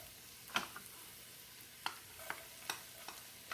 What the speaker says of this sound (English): I'm gonna go ahead and add the onion, start browning that. So sauteing the onion